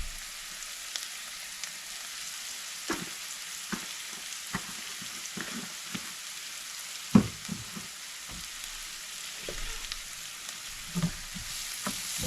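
Onions cooking with salt in a pan: a faint, low sizzle runs throughout, broken by irregular soft clicks and knocks of stirring, with one sharper clatter midway.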